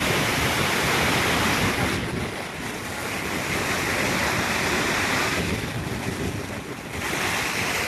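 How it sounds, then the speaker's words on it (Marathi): Waterfalls at Bhandardara pour with a constant broad rush of falling water. Wind buffets the microphone in gusts, and the roar dips briefly twice. "हे दोन वॉटरफॉल प्लस एक तिकडे पण वॉटरफॉल आहे"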